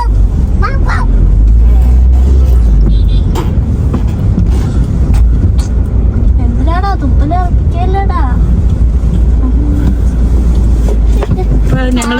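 A family car drives up to a roadside container cafe and parks, its low engine and road rumble steady underneath while people talk inside the vehicle.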